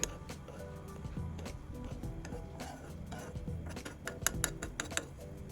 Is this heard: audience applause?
no